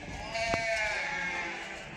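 A sheep bleats once, a clear wavering call close by in a flock of young pregnant ewes, standing out over faint background noise.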